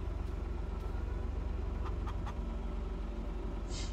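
Chickens in the video game Farming Simulator 22 give a few quick, faint clucks over a constant low engine drone, with a brief sharper sound at the very end.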